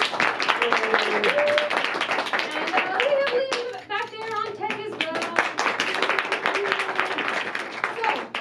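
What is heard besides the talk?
round of applause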